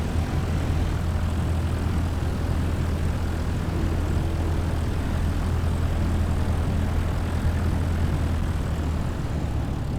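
A light bush plane's propeller engine roars steadily and loudly from inside the cabin at full power for takeoff from a grass airstrip in Botswana, a constant dense drone with no breaks.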